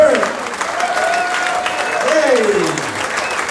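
Audience at an amateur boxing event between Western Counties and The Army, clapping in a sustained round of applause while an announcer's amplified voice talks over the crowd.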